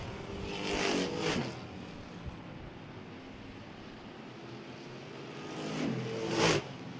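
Stock race cars at Jefferson Speedway sweep past in two loud engine surges, one near the start and one near the end, with a steady distant roar of racing cars between them.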